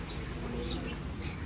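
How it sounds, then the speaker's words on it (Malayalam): Faint chirps and soft cooing of pigeons and other birds in a quiet indoor pet shop, with a brief brighter tweet near the end. "പ്രാവ് കിളികളെല്ലാം ഉണ്ട്"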